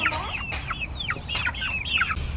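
Several hens cluck and chatter in quick, overlapping calls against a low steady background hum, from a backyard flock of about 25 chickens.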